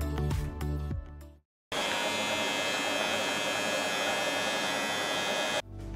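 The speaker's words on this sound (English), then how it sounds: "when the body shaver is attached to the trimmer, it gets super loud" A Philips MG7715 trimmer with its body shaver attachment drones with a loud, high buzz after a brief stuttering start and a moment of silence, then cuts off at the end.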